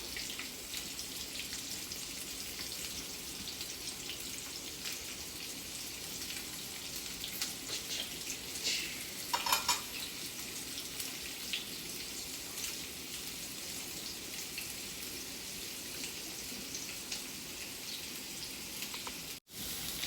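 Colocasia and curry leaves fry in a new ceramic pan with a steady, soft, rain-like crackle and hiss, heard close and continuous with no voices.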